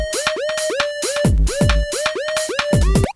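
A synth lead recreating a track on a Novation Peak plays a bright, rhythmic pattern of pitched stabs with falling pitch bends and punchy low thumps, loud and alone.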